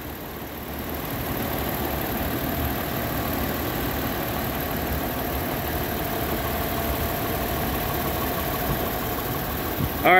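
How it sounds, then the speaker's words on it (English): A Toyota 4Runner engine idles steadily with the hood open, a continuous close mechanical hum and rumble that runs the whole time with no talk. "There's your engine."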